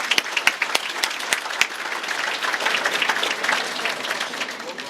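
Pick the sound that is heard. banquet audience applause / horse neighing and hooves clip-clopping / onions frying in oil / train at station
banquet audience applause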